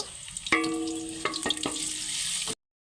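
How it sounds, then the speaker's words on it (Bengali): Chopped onions sizzling in hot oil, a steady frying hiss with several sharp clinks and taps from a utensil against the pan, cut off abruptly near the end. "পেঁয়াজ কুচিটা দিয়ে দেব। পেঁয়াজটাকে একটু ভালো করে ভেজে নেব।"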